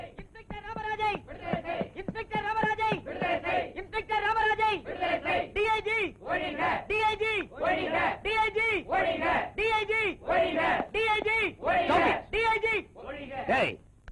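A crowd of protesters in a Tamil action film shouts a rhythmic two-beat slogan over and over, loud, chanted in unison with short pauses between each call across the whole stretch.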